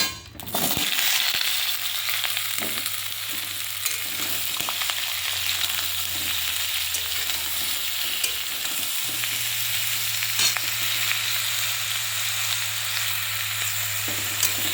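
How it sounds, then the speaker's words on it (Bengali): Washed raw vegetables fry steadily in hot oil, a dense continuous sizzle with occasional stirring scrapes, close by and fairly loud throughout. "এবার আমি ওই তেলের মধ্যে সেই ধুয়ে রাখা কাঁচা আনাজগুলো দিয়ে দেবো"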